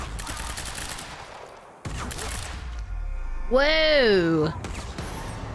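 Rapid bursts of gunfire in the video game Quantum Break on Xbox Series X crackle in quick repetition, broken by a brief pause, while a player's voice exclaims over the shooting.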